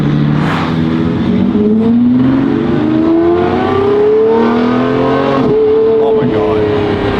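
A heavy Lamborghini Revuelto hybrid supercar accelerates hard, its engine note rising steadily through the gears in a loud, continuous climb, with a brief shift dip partway through; no talk during the run.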